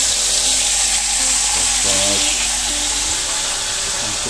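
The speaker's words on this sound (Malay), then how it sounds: "Jom kita goreng ikan." Fish frying in a pan at a kelong fishing platform in Melaka, giving a steady close sizzle and crackle throughout, with faint voices underneath.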